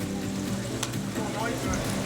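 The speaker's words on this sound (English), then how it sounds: "when you're always frying your food or shallow frying or sauteing it, this is the noise that you need to hear" Chicken shallow-frying in hot oil for butter chicken gives off a steady, soft broadband sizzle that runs unbroken throughout at low volume.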